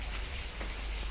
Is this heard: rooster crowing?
no